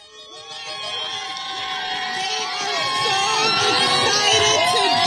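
A large, excited crowd of Dodgers fans at the World Series parade cheers and shouts, with many overlapping voices and whoops swelling louder over several seconds.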